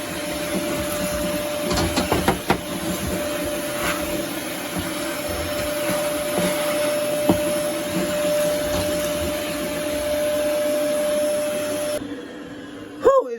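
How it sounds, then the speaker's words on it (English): A vacuum cleaner hoovers wood chip dust and debris out of a warm snake enclosure, a steady close drone running for about twelve seconds with a few clicks and knocks, then cutting off abruptly near the end. "because this wooden chip leaves a lot of kind of dust debris behind, we're going to have to hoover it out"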